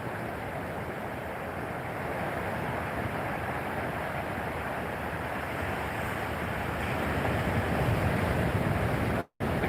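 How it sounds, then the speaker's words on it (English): Small 1 to 2 foot ocean waves slide in on the shore under offshore wind, a continuous broad wash of surf with steady rumble and hiss, building slightly toward the end, no voices. "So the way these waves are sliding in"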